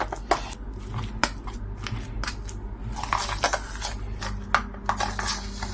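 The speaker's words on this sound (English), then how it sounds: "I'm going to use this strong spoon to just mash my rice up." A sturdy spoon mashes cooked rice in a bowl, giving repeated soft scraping clicks and knocks at an uneven pace, close by with no talking.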